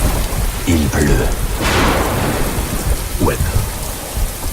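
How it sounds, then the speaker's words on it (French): Steady rain and a rumble of thunder in a western film, a broad downpour hiss filling the scene with a brief swelling roll, while someone speaks over it in short lines. "Il pleut."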